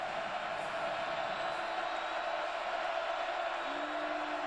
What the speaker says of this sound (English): Crowd revved up.